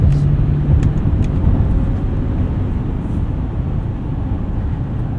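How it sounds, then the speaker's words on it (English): A steady low engine drone and road rumble from inside a 2025 GMC Sierra 2500HD Denali pickup driving fast, constant and fairly loud with no talking. "This truck is fast."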